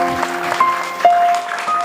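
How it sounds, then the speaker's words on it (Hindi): Audience applause for artists who painted a scene of Gautam Swami at a Jain gathering, steady clapping filling the room with a few sustained tones running underneath. "एक बार इनके लिए भी जोरदार ताली हो जाए।"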